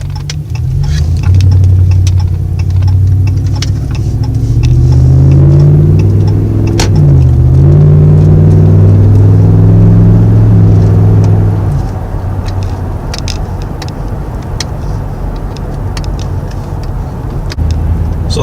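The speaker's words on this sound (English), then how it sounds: "You guys can hear the engine revving." A car engine revs up loudly several times, pitch sweeping up and falling back, then settles toward a lower idle, close to the microphone with no talk.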